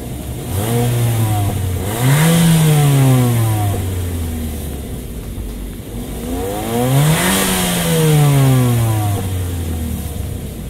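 Mitsubishi Eclipse Cross with a 1500 cc turbocharged engine accelerating hard, loud and close, revs climbing through gear shifts in two rising sweeps with brief dips between them, no talk.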